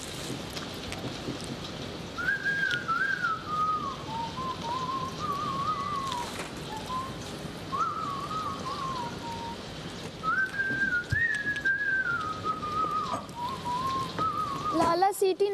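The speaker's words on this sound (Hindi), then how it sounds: "इतनी अच्छी सीटी बजाते हैं आप।" A person whistles a wavering tune in short phrases, fairly clear over a constant background hiss and low rumble, with gaps between the phrases.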